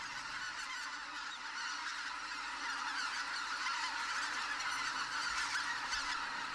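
A large flock of wild geese honks in a dense, continuous chorus at their winter grounds in Korea's demilitarized zone, loud and steady throughout with no voices.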